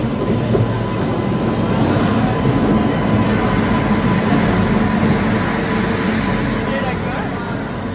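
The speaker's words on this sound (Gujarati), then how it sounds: "આજે વેબ 7 લોકોમોટિવ સાથે આપણી ટ્રેન આવી ગઈ છે સુરતમાં" Bandra–Jhansi superfast special hauled by a WAP-7 electric locomotive rolls into Surat station with a dense, continuous close rumble and rattle of wheels and coaches, steady throughout.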